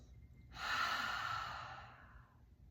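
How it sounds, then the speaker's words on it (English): One deep, slow breath during a seated somatic movement practice, a close, airy exhalation that swells and then gradually fades against a quiet low background hum. "taking a deep breath"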